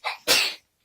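One sharp, close sneeze comes in two quick bursts: a small intake and then a loud explosive release, in an indoor room with no other sound.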